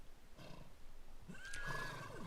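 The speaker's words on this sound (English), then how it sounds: "So many horses running around." A horse neighs in The Sims 3 Pets, a faint whinny rising and falling over soft background sound, with other horses nearby.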